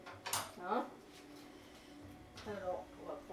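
A utensil scrapes and clinks against a cooking pot while tomato juice and vegetables are stirred together for a coconut milk curry chicken, soft intermittent metallic clatter in two bursts, faint and close, with a voice speaking over it.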